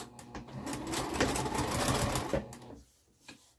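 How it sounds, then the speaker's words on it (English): Sewing machine running steadily as it top stitches through several fabric layers with a long stitch length, a continuous close whirring hum that stops near the end, leaving quiet. "I'm just top stitching all of the layers down."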